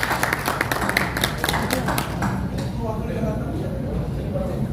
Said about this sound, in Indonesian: tepuk tangan untuk FKDN masyarakat di wilayah-wilayah